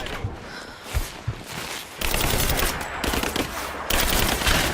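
Sustained automatic gunfire in Rise of the Tomb Raider, dense bursts of rapid shots close and loud, with a brief lull before heavier volleys resume.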